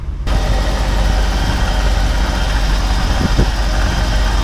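A Ford 7.5L 460 cubic-inch V8 idling with steady low rumble, close and loud, continuous throughout with a couple of brief dips near the end.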